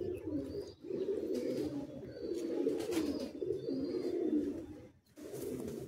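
Madrasi pigeons coo in low, rolling, repeated phrases in a loft, close and steady, with brief pauses between bursts and a faint background hiss.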